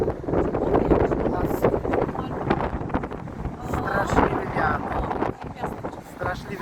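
Gusty wind in Avignon, Provence, rumbling across the microphone, loud and continuous, with a person talking over it.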